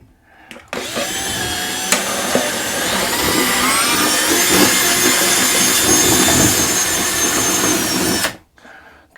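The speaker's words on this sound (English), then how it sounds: "so when I drill it doesn't get all over the place" A power drill with a 1/2 inch bit bores steadily for about eight seconds, a loud, close, continuous whine and grind that starts and stops abruptly.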